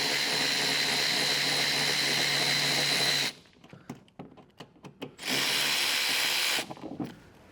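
A power tool whines loudly as bolts are loosened during a rear camera washer install on a Tesla Cybertruck, two sustained runs broken by a stretch of clanks and handling knocks.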